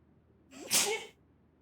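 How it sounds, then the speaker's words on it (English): A single loud human sneeze, close and sudden, with a brief inhale building into a sharp burst and then silence. "I gotta sneeze."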